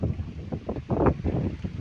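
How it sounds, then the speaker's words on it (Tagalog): Strong wind buffets the microphone in rough, uneven gusts, producing a low rumbling roar with no other clear sounds. "grabe kusog ang hangin diri"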